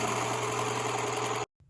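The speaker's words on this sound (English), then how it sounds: "My sewing machine wouldn't sew right and it wouldn't reverse." A home sewing machine that won't sew straight or reverse runs with a steady, loud mechanical hum and rapid whirring, then stops abruptly near the end, leaving near silence.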